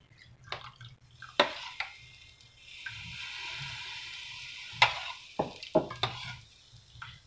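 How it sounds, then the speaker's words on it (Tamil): Milk poured into boiling parboiled rice porridge, giving a steady liquid pouring and bubbling sound with scattered clinks and stirring knocks. "பாலை இப்போ இதில் ஊற்றுறேன்"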